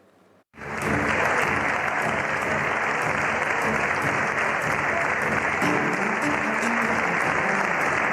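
Sustained loud applause from a crowded parliament chamber as the Spanish prime minister enters a control session, a dense continuous clapping that starts abruptly and fills the whole stretch without letting up.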